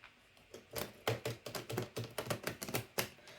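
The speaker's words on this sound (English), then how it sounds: "Still not getting any better at shuffling this ginormous Modern Witch Tarot deck." Oversized Modern Witch tarot deck being shuffled by hand, a quick run of crisp riffling card snaps in close succession, close and fairly quiet.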